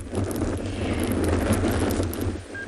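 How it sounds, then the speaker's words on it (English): Strong wind buffets an outdoor microphone on an afternoon African safari drive, a steady loud rumble and roar with gusty low-frequency buffeting throughout and no speech. "very, very windy now"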